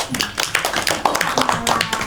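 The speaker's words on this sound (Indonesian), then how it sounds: "Kasih tepuk tangan buat Pak Iza." A classroom of students claps during a geography microteaching lesson, scattered uneven hand claps sounding close and moderately loud, with some voices in the background.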